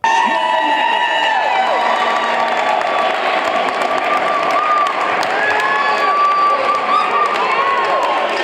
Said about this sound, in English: let out a cheer for the Chicago Cubs